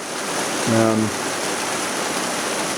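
Rain falls steadily after a long dry spell, a constant broadband hiss of water that stays even throughout. A brief voice-like tone rises just under a second into it.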